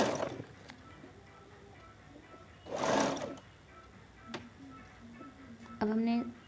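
A sewing machine stitches a round collar in short, stop-start bursts separated by pauses, with a voice talking in between.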